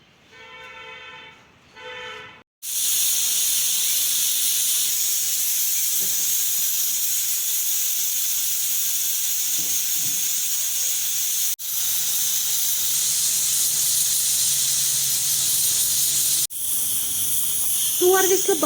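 A pressure cooker cooking dried beans hisses with a loud, sustained steam whistle that runs for long stretches, broken by brief pauses, after a short opening of music.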